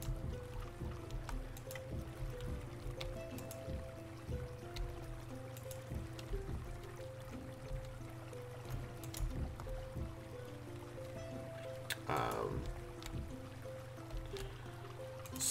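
Water fills a dug trench in the Creativerse game, a steady soft rushing and trickling under a droning, tonal backdrop that runs throughout, with a brief brighter splash near the end.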